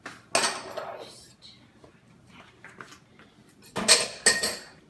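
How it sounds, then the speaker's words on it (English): Dishes and cutlery are cleared into a home kitchen sink, with loud clattering clinks at the start and again near the end and quieter rattles between them. "I'm just going to clear my dishes into the sink."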